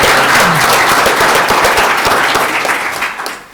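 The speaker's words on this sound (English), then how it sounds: "that is worth a little round of applause" Round of applause at a city council meeting: dense, loud clapping from a crowd in an indoor room, sustained and slowly fading.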